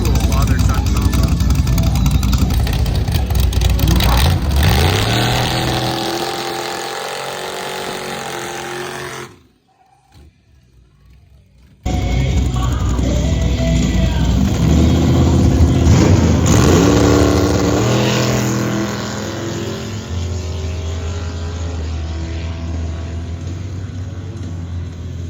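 At drag races held at high altitude, a Volvo and a box-body car roar down the strip with loud, sustained engine revving and shifting. The noise breaks off briefly, then returns with more rumbling engines and crowd noise.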